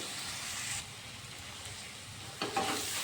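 Grated carrot and potato frying lightly in a pan for Bengali veg chop, a faint steady sizzle with a couple of soft stirring scrapes, one louder near the end.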